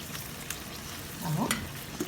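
Tomato sauce for an okra stew gently sizzling in a pan as it is stirred, a faint, steady hiss with a few soft scrapes and clinks near the end, no talking.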